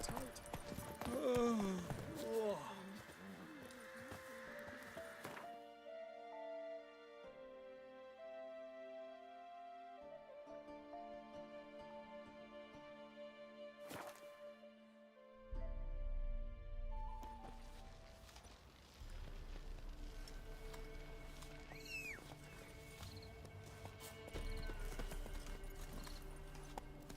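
Hooves of Geralt's horse Roach clip-clop in The Witcher 3 among game music and ambience, a quiet rhythmic trot that comes and goes beneath a spoken line.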